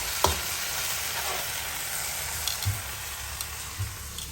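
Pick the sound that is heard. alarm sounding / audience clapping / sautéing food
sautéing food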